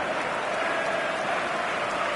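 Stadium crowd in the football video game PES 2025, a dense, steady roar of applause and cheering filling a large arena, continuous and loud throughout with no clear voices standing out.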